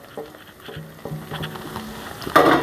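A spoon stirs ground spices, turmeric, coriander powder, chili and chaat masala, frying in oil in a pan, giving soft scraping and light sizzling with irregular taps, then a louder burst near the end.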